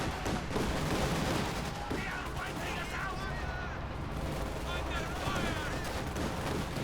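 Machine gun bursts and scattered gunfire from a Company of Heroes 2 battle, including an MG-34, rattle continuously beneath a caster's running commentary.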